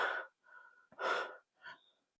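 Heavy panting breaths from a person walking up a steep path at a Thai temple, three loud, close gasping exhales and inhales in an uneven rhythm, with no talk.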